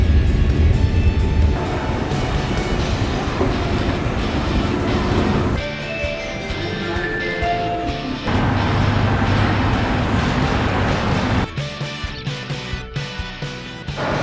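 Steady low rumble of a moving passenger train heard from inside the carriage on the way to Seoul, a continuous mechanical drone with shifting tones and no talking.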